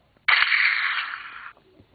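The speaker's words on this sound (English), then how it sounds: "I'm going to show you how to get some lock sounds like this one." A single bright swooshing electronic iPod touch lock sound, about a second long, clear and close, with quiet surrounding it.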